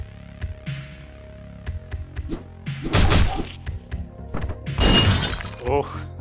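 Glass shattering in the top-down shooter Hotline Miami 2, several sharp crashes and thuds spread through the moment over a steady game music bed, with someone talking over parts of it.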